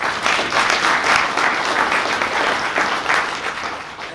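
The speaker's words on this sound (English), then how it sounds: "So big round of applause for our carrier partners for being here." Audience at a live insurance agent kickoff event applauding carrier partners, a dense, sustained wash of many hands clapping at steady loudness for the whole stretch, with no voices over it.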